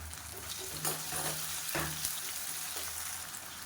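Chopped onion and tomato sautéing in a pan for a Tamil side dish, a steady close sizzle with occasional stirring scrapes and clinks, no voices.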